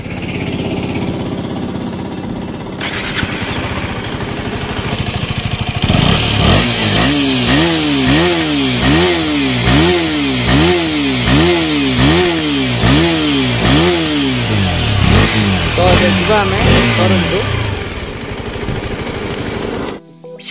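KTM Duke 250 motorcycle exhaust after its first service, idling then revved repeatedly in a rhythmic series of sharp rises and falls, loud and close, with no voices.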